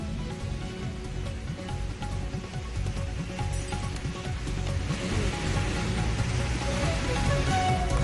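Steady rain patters on a surface, a dense, continuous hiss with low rumbling underneath and no voices.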